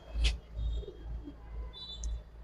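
Khaki Giribaz pigeons cooing in soft, low repeated phrases at close range, with a few faint higher chirps in the background.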